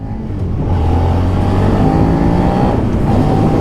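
A Suzuki SV650 motorcycle engine revs hard and climbs steadily in pitch through fourth gear, loud and close, building into a sustained roaring whine.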